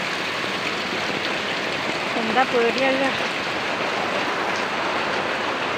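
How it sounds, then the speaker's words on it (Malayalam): Heavy, unbroken rain pours steadily in Kerala during a night-and-day downpour, a dense broadband hiss filling the whole clip while a voice speaks briefly over it midway. "ഇന്നലെ രാത്രി മുതൽ മഴ നിന്നിട്ടില്ല"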